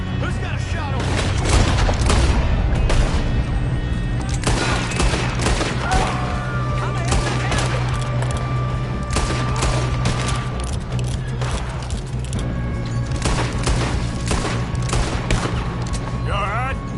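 Gunfire erupts during a train robbery in Red Dead Redemption 2, loud, dense volleys of rifle and pistol shots cracking continuously for the whole stretch, with booming reports among the rapid shots.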